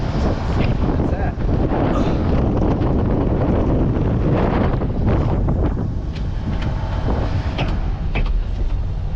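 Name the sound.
strong wind blowing on a farm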